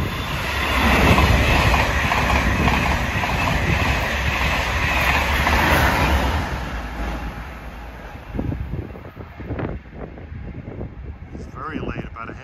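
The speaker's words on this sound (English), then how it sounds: "Here's the Cork train." An intercity passenger train to Cork rumbles loudly past nearby in the Dublin area with rhythmic clickety-clack of wheels on rails, then fades as it moves away, leaving quieter background sounds.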